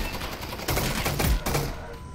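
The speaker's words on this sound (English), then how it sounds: "just unload your mag into this guy" Gunfire in the VR shooter Half-Life: Alyx, a magazine emptied into an enemy as dense, rapid overlapping shots that fill about two seconds at a steady, loud level with no talking.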